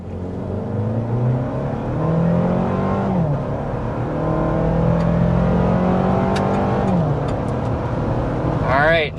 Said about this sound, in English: there's an acceleration up to 60 from a standstill, and yeah, this is really quick with the iForce Max hybrid system